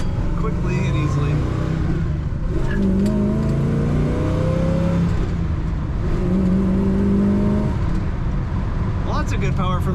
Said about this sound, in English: Lots of good power from this engine.